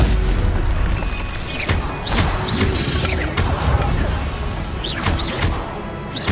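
A Stupefy spell strikes in Hogwarts Legacy, landing as a loud booming crash with sharp whooshes amid a dense, continuous mix of in-game effects and music.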